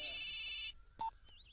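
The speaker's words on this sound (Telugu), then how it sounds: "జఫాబాయ్ ఫోన్" A mobile phone ringtone goes off in a Telugu comedy film scene. A bright electronic tone plays loudly for under a second, then a few short, fainter beeps and chirps follow.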